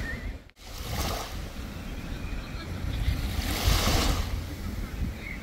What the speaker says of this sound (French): C'est tellement satisfaisant le bruit des vagues.